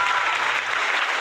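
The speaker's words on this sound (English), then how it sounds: "Let me give myself a round of applause for that." A brief burst of dense applause, like a studio crowd sound effect, steady and loud for just over a second, with no talk.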